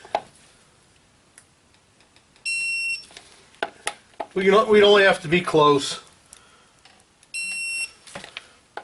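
A Snap-on torque wrench on a Chevy 2500 HD rear axle job gives two steady electronic beeps as it reaches set torque, each lasting about half a second, with someone speaking between them.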